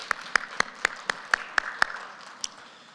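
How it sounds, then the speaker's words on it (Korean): A church congregation claps during a Sunday worship service. About nine crisp claps land in an even, unison rhythm, roughly four per second, in a quiet room, then stop after a final clap. "하나님께 영광의 박수를 올려드리겠습니다."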